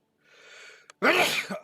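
A single loud sneeze, preceded by a quiet sharp inhale, close and sudden in an otherwise silent room.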